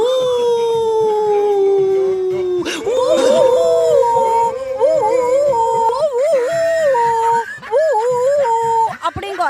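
A voice imitates a dog's howl: long, wavering, mournful tones rising and falling for several seconds, loud and close.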